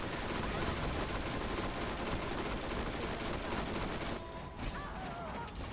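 Continuous gunfire from the video game Borderlands, a steady dense wash of shots at moderate level that drops off sharply near the end, leaving quieter scattered sounds.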